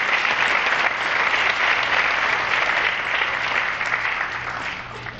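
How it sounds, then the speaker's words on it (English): An audience at a 2019 Colonia High School National Honor Society ceremony applauds guests from the Board of Education, a full, sustained roll of clapping that tapers off slightly near the end. "Please give them a round of applause"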